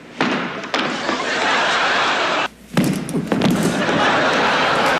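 A comedian on a 1980 TV variety show pretends to knock himself out on a stool, giving a few sharp thuds and bangs over a loud, busy room noise, with a short lull in the middle.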